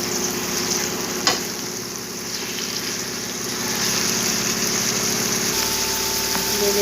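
Chicken fried rice with bell pepper stir-fried in a pan, a steady close sizzle and frying hiss with a brief utensil clack early on, continuing alone throughout.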